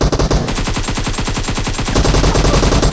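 Close, loud automatic rifle fire in PUBG Mobile during a weapon damage test of the AKM and M762, a fast steady burst of evenly spaced shots continuing for about three seconds with no talk.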